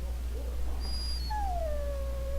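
A warhound in the fantasy game Dragon Age: Origins gives a long, high, drawn-out whimpering whine that slides downward, heard clearly over a steady low background hum.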